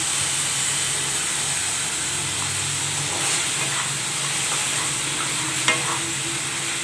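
A steady bubbling hiss of sugar and water cooking in a hot pan continues throughout, with a faint scrape of stirring near the end.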